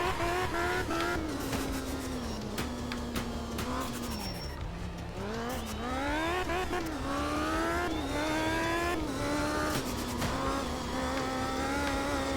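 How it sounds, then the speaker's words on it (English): A rally car engine in the racing game Art of Rally revs hard, its pitch rising and falling through gear changes, with brief tire squeals and skids over a continuous loud drone. "when you just lower your foot in through the accelerator, it sounds like you're in a wind tunnel, dude"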